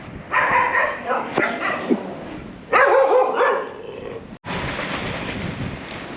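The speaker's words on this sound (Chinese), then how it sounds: "前面那户人家有很凶凶的狗狗。" A fierce dog at a roadside house barks repeatedly and loudly close by, in sharp bursts mixed with outdoor background noise and some voice.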